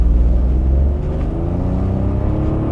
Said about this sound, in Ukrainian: Двигун звучить по-бойовому за рахунок своєї трьохциліндровості дуже прикольний в нього звук